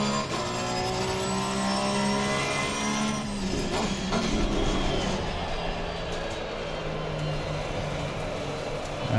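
A Porsche 911 GT3 R race car engine in Assetto Corsa Competizione at Spa howls under throttle, its rising whine broken by a gear change before it climbs again, loud and continuous throughout.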